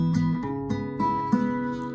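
Acoustic guitar strumming a short rhythmic beat pattern with a changed bass note, several quick percussive strums ringing over a sustained chord, close and clear with no talk.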